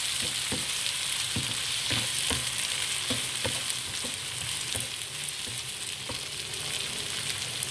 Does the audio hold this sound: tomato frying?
yes